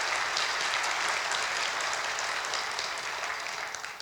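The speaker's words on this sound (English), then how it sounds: "How about a round of applause for that?" An audience at an awards ceremony applauds, a thick, sustained roar of many hands clapping together that stays loud and even before easing slightly near the end.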